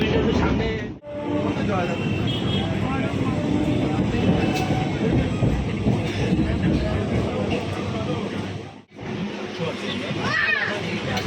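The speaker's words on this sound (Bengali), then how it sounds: "আমরা 6:57 ট্রেন ধরেছি। এটা হচ্ছে দার্জিলিং মেল" A Darjeeling Mail passenger train rumbles steadily at Bangaon station platform, its low continuous roar filling the scene with faint squeals and clanks, broken by two brief dips, while people talk nearby.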